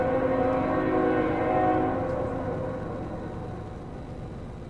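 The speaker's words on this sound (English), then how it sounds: "What you're hearing in the background is a train." Steady low rumble of a train passing in the background near a snowy mountain retreat, continuous and broadband, slowly fading over a few seconds without talk.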